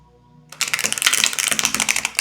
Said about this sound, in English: I like the shuffle on the cards.